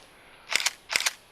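A DSLR camera shutter fires twice with the lens removed, each release a sharp, close double click of the curtain flipping open and shut, separated by a short quiet pause.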